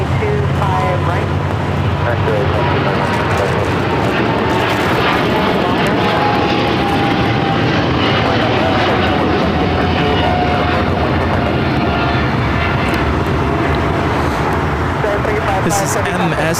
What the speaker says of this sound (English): This is MSC Air Cargo Giant 355 taking off to Hong Kong on the 777 freighter